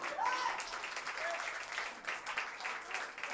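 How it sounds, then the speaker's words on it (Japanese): Audience applause at a live concert by a rock band, a dense, steady clapping from the crowd filling the room, with a few voices calling out underneath. "拍手。"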